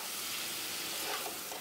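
Chicken pieces cooking on low heat in a pan for chicken bharta, giving a steady soft sizzle and hiss with faint stirring, with no voices.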